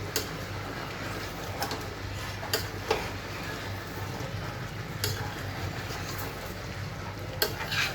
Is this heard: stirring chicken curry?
yes